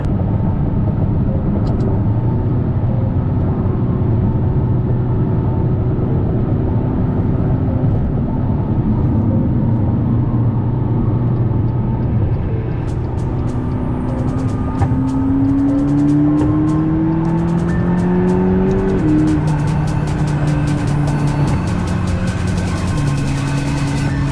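McLaren MP4-12C sports car cruising on an open freeway: a loud, steady engine drone fills the cabin, its pitch climbing and dropping through gear changes in the second half, with no talking.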